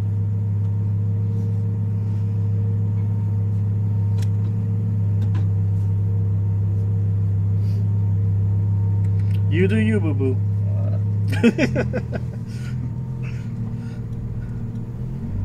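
An Audi R8 twin-turbo sports car sits idling with a steady low engine drone throughout, then a brief rev rises near the end; people talk over it in the cabin.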